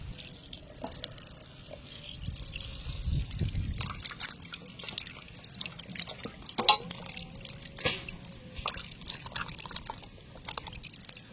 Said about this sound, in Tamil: நம்ம இப்ப சிக்கனை அலசி எடுத்துக்கலாம் வாங்க.